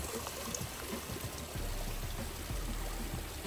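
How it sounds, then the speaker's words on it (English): Water from a garden pond fountain spills steadily over a small waterfall, a soft continuous splashing and trickle heard fairly close with no voices. "I turned on the fountain and it's nice to hear the waterfall here"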